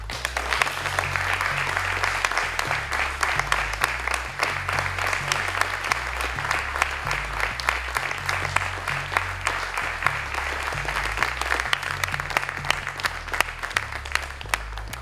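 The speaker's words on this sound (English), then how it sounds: "we'll give it a round of applause" A crowd at the launch of a Formula 3 race car claps steadily, with dense, even applause sustained throughout at moderate volume and no voices standing out.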